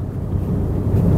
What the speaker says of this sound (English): Smooth revving 6-cylinder engine,